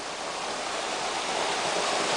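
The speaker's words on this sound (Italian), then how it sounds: "Ragazzi, siamo qui nella cascata." Jungle waterfall at Cahuita, Costa Rica, a constant, close hiss and roar of falling water with no break, heard alone without any talk.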